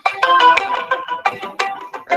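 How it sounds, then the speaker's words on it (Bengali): A phone ringtone plays as a bright, repeating melodic chime in short pulsing bursts, loud and close, with no talking over it. "ফোন বাজছে"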